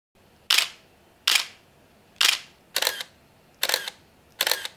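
Six crisp DSLR shutter clicks from a Nikon D700 or Canon 5D Mk1, each a sharp snap with a short mechanical tail, spaced roughly every half to one second, close and alone in a quiet room.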